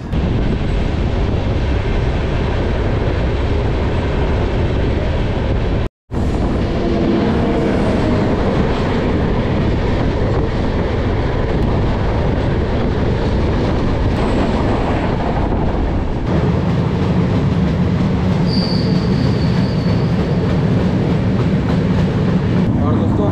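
Train rolling through the diamond railway crossing in Nagpur, central India, where four lines meet: a loud, continuous rumble of wheels and carriages close by, with a brief break partway through and a steadier low drone later.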